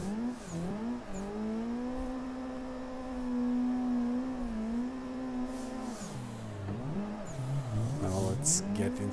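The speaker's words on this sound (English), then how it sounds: "Drift around a bit in the parking lot." Video game car drifting around a parking lot, a steady engine drone with clear harmonic pitch that holds, then dips and swings up and down as the car slides and revs, loud and continuous.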